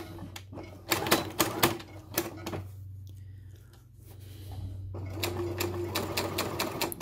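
A sewing machine stitches fabric at a normal stitch length, running in close rhythmic bursts with a short pause in the middle, loud and near with no talking.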